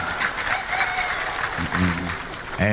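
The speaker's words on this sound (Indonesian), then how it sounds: "Tepuk tangan untuk Bupati kita" Audience applause for the regent at a religious lecture gathering, a steady broadband clatter of many hands filling the clip, with a voice briefly heard near the end.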